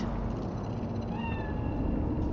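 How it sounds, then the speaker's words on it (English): Cat meowing in the video game Cyberpunk, a single drawn-out meow rising and falling over a steady low hum of game ambience. "That cat?"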